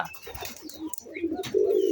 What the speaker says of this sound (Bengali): আমার কিন্তু অ্যারাবিয়ান কোখা কবুতরও আছে, এই যে দেখতেই পাচ্ছেন